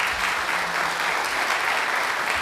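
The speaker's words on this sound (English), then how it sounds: "Let's give them another round of applause." A church congregation applauds steadily, a dense wash of clapping filling the space for a couple of seconds with no break.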